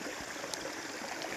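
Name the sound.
stream water flowing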